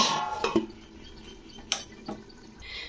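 A metal lid is set onto a cooking pot of jackfruit curry made with mutton fat, giving a few light clinks and taps followed by a softer knock, all close and fairly quiet, with no talking.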